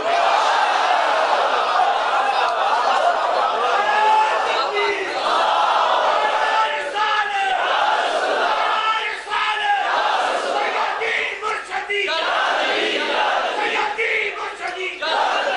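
A large crowd at a religious jubilee gathering at a madrasa shouts the Nara-e-Takbeer slogan, a loud, dense roar of many voices sustained throughout with rising and falling surges.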